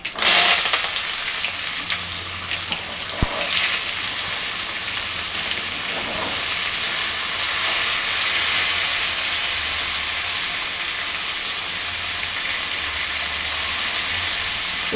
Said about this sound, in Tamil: இந்த ஆனியன் நல்லா மெரூன் நிறத்தில் வரணும்.